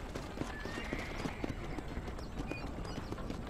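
Steady clip-clop of hooves with occasional snorts, a warhorse trotting closely over a low background hum, in the video game Red Dead Redemption.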